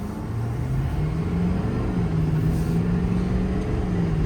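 A 2011 Ford F-550 4WD crane truck with a 6.7 diesel drives down the road, its engine a loud, steady drone whose low tone climbs gently as it pulls.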